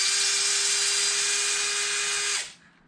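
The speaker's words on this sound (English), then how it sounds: "you should be able to use the factory screws to screw this right in place" Power drill driving factory screws into the rear battery tray of an Arrma Infraction RC car, a steady close whine holding for over two seconds before winding down abruptly to quiet.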